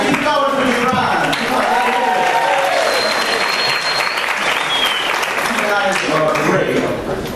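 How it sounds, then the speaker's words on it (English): Comedy club audience applauding for a comedian, dense sustained clapping with cheers and whoops throughout, loud and close, with voices calling out over it. "let's get the claps"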